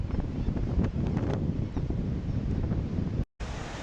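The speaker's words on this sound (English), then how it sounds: "The wind is starting to subside, but big swell is still pounding the cape." Strong wind buffeting the microphone with heavy ocean swell pounding a sea cape on the Bering Sea coast, a dense continuous low roar, briefly dropping out near the end.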